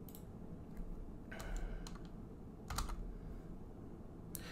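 Keys clatter on a computer keyboard in a few short bursts of close typing separated by quiet pauses, with no talking.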